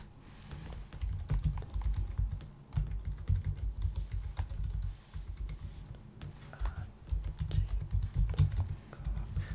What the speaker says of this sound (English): I'm just going to be typing it on my computer here